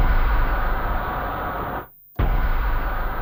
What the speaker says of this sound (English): our highly processed, distorted noise sound